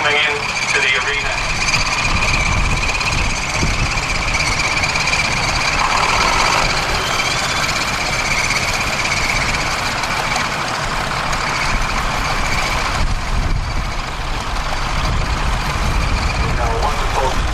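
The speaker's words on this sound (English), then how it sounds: "there should be some more tractors coming in to the arena" Vintage tractors rolling into the arena at the Sheffield Steam & Vintage Rally, a Ford leading, their engines chugging and rumbling steadily amid the outdoor crowd, with a voice speaking over them.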